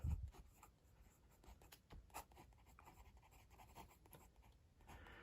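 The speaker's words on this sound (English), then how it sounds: "we'll just write Robert Oster" A Platypus Model 10 fountain pen filled with Robert Oster Tranquility ink writes on paper, giving a faint, close scratching that runs steadily under light background noise.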